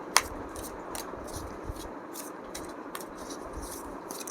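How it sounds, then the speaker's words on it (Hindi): Tarot cards are shuffled by hand in quiet, repeated riffles and soft papery flicks, faint and close, with a sharper snap at the start. "कार्ड्स अच्छे से शफल कर लेते हैं।"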